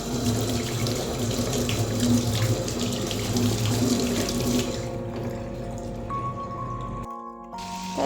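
Tap water runs steadily into a kitchen sink where hilsa fish heads and tails are soaking; the stream sounds close and continuous, then tapers and briefly cuts off near the end.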